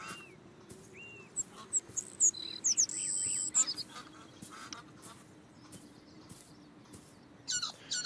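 Birds chirp and tweet in the Beyond Eyes video game, with several bright calls scattered over a steady low ambient hum, some rising and falling, a few sounding close and others farther off.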